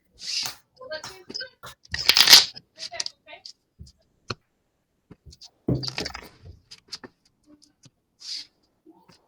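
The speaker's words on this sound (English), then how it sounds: "Shuffle these up and we'll be good to go." A deck of game cards is shuffled in a few quick riffling bursts with scattered light clicks and taps between, close by and in a quiet room, with some speech mixed in.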